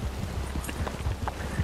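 Horse hooves clop in Red Dead Online, a quick, steady rhythm of soft thuds at moderate loudness, close by and with no one talking.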